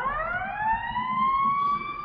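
Ambulance sirens outside, a steady rising wail in one long sweep, moderately loud over a low rumble of background noise, with no talking.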